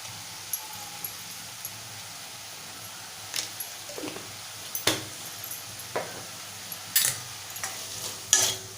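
Capsicum and potato being sautéed in a pan, a soft steady sizzle broken by scattered scraping and stirring clicks of a spoon against the pan, close and fairly quiet.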